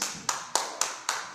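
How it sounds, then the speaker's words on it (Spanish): A church congregation claps in a slow, steady rhythm, with four or five sharp, evenly spaced claps sounding together, moderately loud with a faint reverberant room tail and no talking. "Dale un aplauso al Señor."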